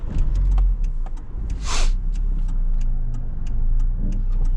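A Saturn SC2 car engine idles steadily with a low, even drone, a brief hiss-like burst cutting through near the middle and faint ticking clicks throughout.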